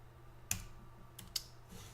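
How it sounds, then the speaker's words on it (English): Brief, soft typing on a computer keyboard during game programming, a few isolated key clicks spaced apart over a low steady background hum. "Let me finish typing this and then I'll explain a little more."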